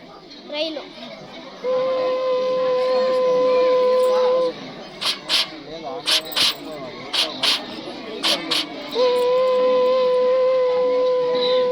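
A schoolboy at a children's talent competition imitates a train with his voice, giving a long steady whistle-like tone, a burst of rhythmic chugging puffs, then another sustained whistle, loud and close.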